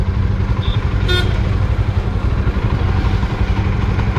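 A Yezdi Scrambler motorcycle with a sensor problem idles with a loud, steady low rumble close by, and a brief high beep or toot sounds about a second in.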